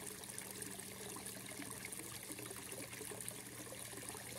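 Water from a nearly submerged pump pipe pushes into a fish tank in a fish-farming setup, giving a steady, close trickling and bubbling stream that runs evenly throughout with no talk.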